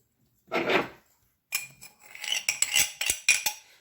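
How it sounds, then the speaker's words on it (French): A spoon stirring oil, water and sugar in a bowl: a soft swish, then a series of scraping clinks and taps of metal against the dish, close and clear with no talk. "on mélange bien nos liquides à la cuillère"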